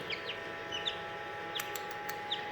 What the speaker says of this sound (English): Look what we have over here, little baby chicks.